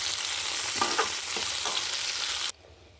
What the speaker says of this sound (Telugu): అలాగే దీనిలో 1 స్పూన్ పచ్చిశనగపప్పు, 1 స్పూన్ జీలకర్ర వేసి బాగా వేగనివ్వాలి.